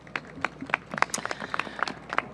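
Scattered clapping from a modest audience at a DC mayoral press event on a robbery intervention task force, honouring the Metro Transit Police chief: a short burst of distinct, separate claps, fairly close.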